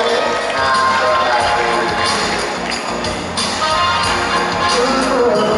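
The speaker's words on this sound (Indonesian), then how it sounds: "Tepuk tangan dulu" Applause from a live concert audience at a performance at Kota Kasablanka: a dense, steady wash of clapping that stays loud and close throughout, mixed with faint crowd murmur.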